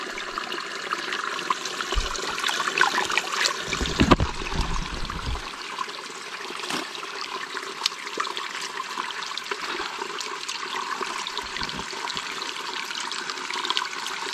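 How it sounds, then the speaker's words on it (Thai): Clear water trickling and flowing in a small forest stream, a steady close babble throughout, with a few louder splashy bursts near the start. "ห้วยเล็กๆตรงนี้นะครับมันใสมากครับผม"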